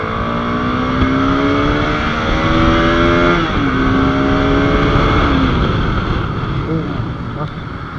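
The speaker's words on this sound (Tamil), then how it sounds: "ரேவ் பண்ணுறேன், செகண்ட் கீழே தான் போகிறோம்." A 2024 Bajaj Pulsar RS200 motorcycle engine revs loudly and close up while riding. Its pitch climbs, then drops and climbs again through the gears over a constant rushing background.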